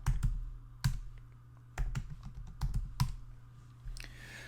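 Keystrokes on a computer keyboard while entering an Elixir command, arriving as a few separate clicks and short bursts spread over several seconds, close and fairly quiet against a low steady hum, with no voice.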